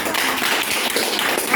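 A group claps together at a gathering of veterans in Azerbaijan, continuous dense applause filling the whole moment, close and lively without pauses.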